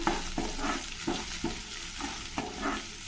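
Chopped onion and curry leaves fry with mustard seeds and cumin in a hot pan, giving a dense close sizzle broken by regular scraping stirs about every half second.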